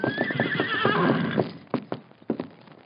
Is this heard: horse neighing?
yes